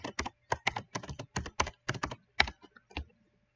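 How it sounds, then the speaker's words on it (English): Rapid keystrokes on a computer keyboard, a quick clattering run of taps in short bursts with brief pauses, close and clear with no talk. "I'm just typing out the name."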